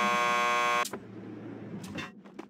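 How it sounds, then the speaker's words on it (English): A door buzzer to the police lockup in the Max Payne 2 video game sounds as one loud, harsh, steady electronic buzz lasting under a second. It stops abruptly, followed by faint clicks and shuffling. "Just press the buzzer by the door."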